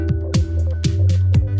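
A short music loop in Ableton Live with a low shelf EQ boost, heavy rhythmic bass thumps and sparse percussive hits, loud and close with no voices.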